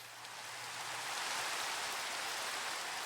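Steady rain in the game Minecraft, a dense hissing patter that rises slightly and then holds, heard alone with no talking.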